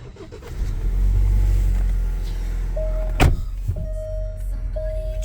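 A 2021 Alfa Romeo Stelvio Ti Sport AWD starts from its start-stop button, with a low engine rumble that settles into a steady idle, a sharp thump partway through and electronic chimes after it.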